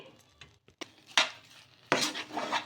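A spoon stirs a semolina and rice flour mixture in a pan, making sparse, close scrapes and clinks in uneven bursts, with short quiet gaps between the strokes.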